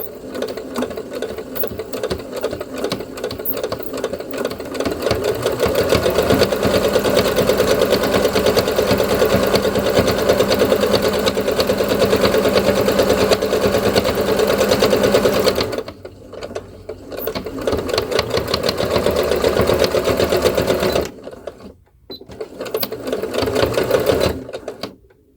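Close and loud, a sewing machine back stitches along a fabric hem and then keeps sewing in long continuous runs, broken by two brief stops, with no talking.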